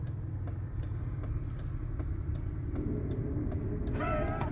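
A car engine pulls steadily as the vehicle accelerates up a slope, a continuous low drone with faint ticking; near the end a brighter rising whine joins in.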